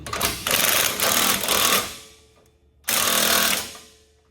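A 15/16 wrench snugs up the bolts on an Andersen weight distribution hitch, giving loud rapid rattling bursts: a long run of about two seconds, a pause, then a second shorter burst that fades out.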